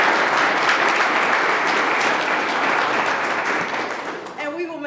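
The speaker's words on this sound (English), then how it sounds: "let's give Paul a round of applause" Audience applause at an outdoor-style sustainability summit award session. Steady, dense clapping from a crowd goes on for several seconds, then fades at the end as a voice begins to speak.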